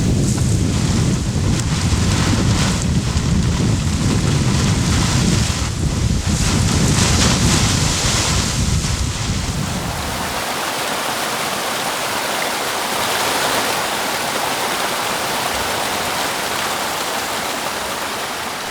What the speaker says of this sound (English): typhoons bring torrential winds and rain